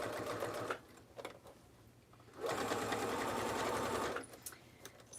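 A sewing machine stitches fabric for a fanny pack in short whirring runs, a brief burst, a few quick pulses, then a longer steady run of rapid needle chatter, close and clear.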